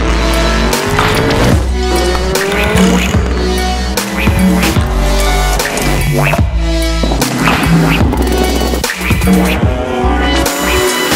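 Loud, continuous roar of race car engines at the 24 Hours of Le Mans, with repeated fast pass-bys at about 300 km/h and whining revs, dense and busy throughout, with no talking.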